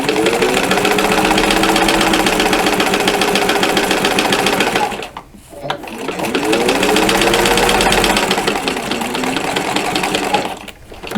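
A sewing machine runs continuously, stitching a zippered coin purse: a loud, close, rapid whirring hum for about five seconds, a brief pause, then another long run of steady stitching before stopping.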